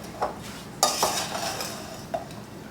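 Strawberries with sugar and zest are stirred in a pot, with a few clear scraping clinks of a spoon against the pot and a soft rustle of fruit between them, close and with no talk.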